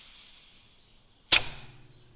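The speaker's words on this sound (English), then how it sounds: "All I can hear is this bit of spring noise." A brief metallic spring twang from a Detroit 4-53 turbocharged diesel blower bypass under 40 psi of air, one sharp close transient ringing down after a quiet hiss.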